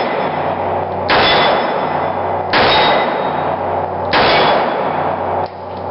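Three loud, evenly spaced shots from a Smith & Wesson Model 10 .38 Military and Police revolver, each a sharp crack followed by a ringing clang from a steel target plate, with the ring trailing into a long decay.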